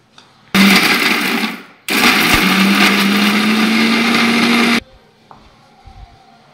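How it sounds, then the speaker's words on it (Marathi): A kitchen mixer grinder blends dosa chutney ingredients, two loud bursts of whirring motor roar separated by a brief pause, the pitch slowly rising during the longer second run before it cuts off. "हे सगळं आता आपण मिक्सरमधून बारीक वाटून घेऊ।"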